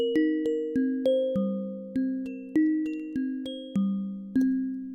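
Synthesized bells run through an arpeggiator with randomized note velocity, so the steady chimed notes land at uneven loudness, some hits stronger than others, ringing and decaying alone with no voices.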